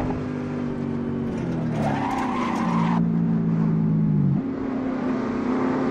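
A De Tomaso Pantera slides in the racing game Assetto Corsa: a steady engine drone whose pitch dips and wavers, with a sustained tire squeal. Loud and close throughout, with no talking.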